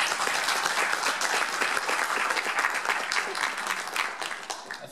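Warm, sustained applause fills a hall at a district candidates forum as the crowd claps for a candidate's wife, a dense, loud patter of many hands that tapers slightly toward the end.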